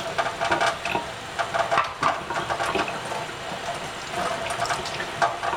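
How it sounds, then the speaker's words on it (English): Cold tap water runs and splashes steadily over dolls being rinsed, with irregular spattering bursts as the hair is worked under the stream, fairly close and alone. "all of these ladies I'm going to rinse in cold tap water"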